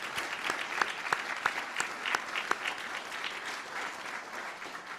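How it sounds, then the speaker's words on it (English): A journalism awards ceremony audience applauds steadily for several seconds, a dense field of hand claps with a few sharper claps standing out and no voices on top. "Let's give them a round of applause of appreciation."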